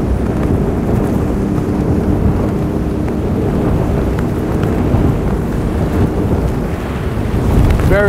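A boat's OXE 300 hp diesel outboard engine drones steadily on a 34-foot Cape Horn boat amid rushing water and wind noise, a loud, continuous churning roar with no talking.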